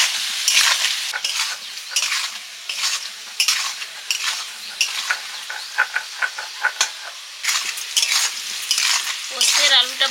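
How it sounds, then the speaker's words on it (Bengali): Potatoes for Bengali aloo posto fry in a pan with a loud, steady sizzle and hiss. A utensil scrapes and clinks through them again and again in an uneven rhythm, and no one speaks. "পোস্তের আলুটা ভাজা হয়ে গেছে।"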